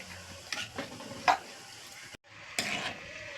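A spoon scrapes and clinks against a pan as thick Kerala-style chickpea curry is stirred, with soft sizzling underneath and a brief pause midway.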